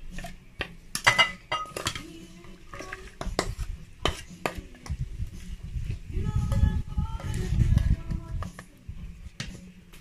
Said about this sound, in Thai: คนแล้วก็เทใส่จาน